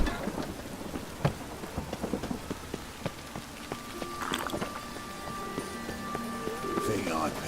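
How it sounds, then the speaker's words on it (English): Rain falls steadily in the Witcher 3 video game. Rumbling thunder and scattered sharp drips sound over it, with some faint game sounds in the background. "Rain again"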